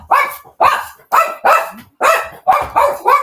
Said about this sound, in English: Oh, now my dog is going to join